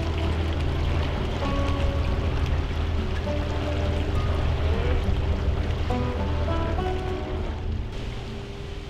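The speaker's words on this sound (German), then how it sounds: "Ruhiges Wassergeplätscher, monotones, gleichmäßiges Surren des Motors" A monotonous canal boat motor hum runs continuously beneath steady splashing and lapping water on a canal, close and fairly loud throughout.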